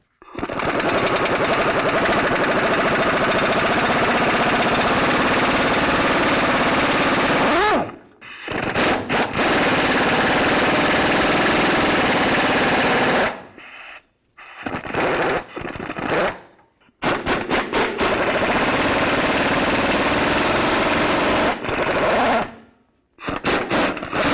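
Mounting nuts come off the sway bar brackets at the differential of a 1999-2007 Ford F250, with a loud, rapid rattling power tool running in long bursts broken by short pauses.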